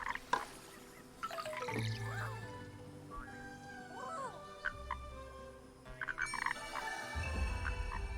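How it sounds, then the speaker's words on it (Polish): Frog croaks in Kena: Bridge of Spirits, a few sliding, gulping calls spaced a couple of seconds apart over a quiet ambient game soundscape, with soft drips and a low rumble near the end. "żaba."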